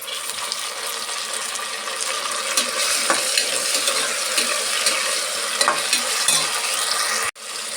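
One large tomato frying in a pan for a hitakida bele (split field bean) biryani: a continuous close sizzle with repeated scraping and stirring clatter and a sudden brief cut near the end, without any talk.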